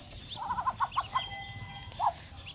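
A duck with her ducklings is heard outdoors in a rural setting, giving a short run of soft, quick quacks and calls, then a single louder call, fairly near over faint background noise.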